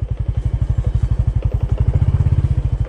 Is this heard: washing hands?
no